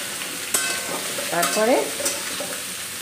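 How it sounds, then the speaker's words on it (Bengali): Cauliflower and potato fry with whole spices in a pan, a close sizzle broken by scraping stirs and a sharp clink near the start, while a voice speaks briefly in the middle. "আমি পুরো মশলা দিয়ে এই যে তরকারিটা কষাচ্ছি তোমাদের সাথে"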